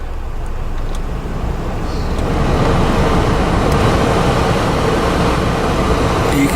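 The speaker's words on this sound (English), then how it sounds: "and this is the blower" A Hummer H3's blower fan, just repaired after a wiring fix, runs with a steady, loud, broadband rushing whoosh that builds slightly after the first couple of seconds and then holds constant, close by.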